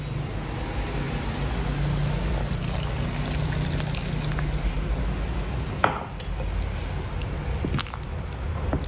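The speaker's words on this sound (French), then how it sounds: "Je vais pouvoir verser mon eau." Water poured into a simmering vegetable velouté in a pot, a steady rushing, bubbling wash of liquid at close range, with a sharp knock near the end, no talking.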